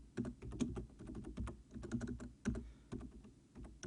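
Keystrokes on a computer keyboard that is acting up, tapped in irregular bursts of close, sharp clicks with brief pauses, no voices.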